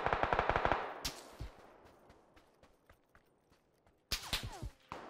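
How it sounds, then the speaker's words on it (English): Video game gunfire in PUBG: a rapid burst of automatic shots up front, then scattered single cracks and distant pops, and another close burst near the end. "I don't even see this guy shoot me."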